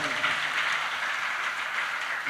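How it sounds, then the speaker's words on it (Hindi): Audience at a Jain sermon in Jabalpur clapping, a fairly faint, continuous patter of many hands that stays steady throughout. "ताली तो बजा रहे हैं आप।"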